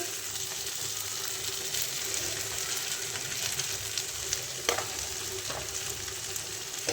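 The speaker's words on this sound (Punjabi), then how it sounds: "ਕੜਛੀ ਨਾਲ ਹੁਣ ਆਪਾਂ ਇਹਨੂੰ ਹਿਲਾ ਦਾਂਗੇ ਤੇ ਚੌਲ ਵੀ ਹੁਣ ਆਪਾਂ 2 ਤੋਂ 3 ਮਿੰਟ ਲਈ ਭੁੰਨ ਲਏ ਜੀ" Rice and peas roasting in a pot, stirred with a ladle: a steady close sizzle and crackle of frying throughout, with a few brief scraping strokes and no talk.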